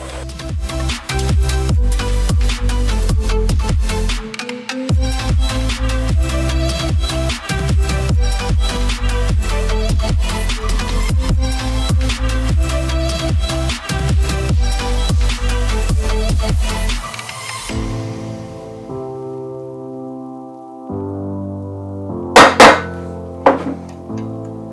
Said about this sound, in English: I think some of that is going to be a hacksaw job.